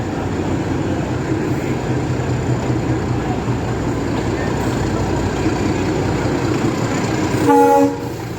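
A steady rumbling train in the Konkan region rolls along with constant clatter and background voices, then a short horn blast sounds near the end.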